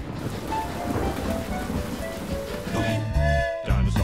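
Cartoon thunderstorm with steady heavy rain and rumbling thunder, loud and continuous, with a deeper thunder swell near the end.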